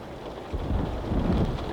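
Thunderstorm with heavy rain, a dense steady wash of rainfall with a deep rolling thunder rumble swelling in partway through, loud and without talk.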